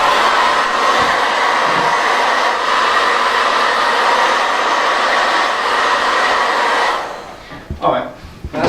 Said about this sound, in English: So it's going to heat this up a bit, and just switch it on